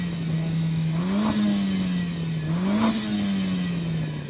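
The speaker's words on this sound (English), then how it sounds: "Yanni, rev up your engine." A 5-cylinder sports car engine revs while parked, holding a loud steady idle and then climbing twice in short blips that settle back down, close up, with no talk.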